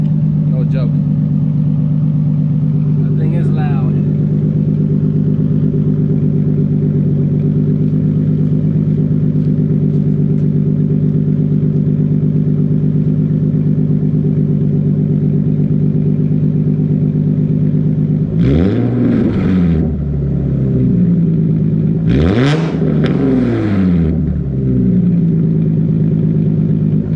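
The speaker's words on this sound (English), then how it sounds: "let me go ahead and rev that right here. Man, that thing is loud." A car engine revs hard through a Tomei Expreme titanium cat-back exhaust, with a steady loud idle drone and then two sharp, separate rev bursts near the end.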